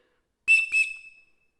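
A SOL Slim Rescue Howler whistle blown softly gives two short, close toots with a steady shrill tone, the second tailing off over about half a second.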